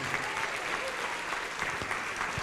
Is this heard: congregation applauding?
yes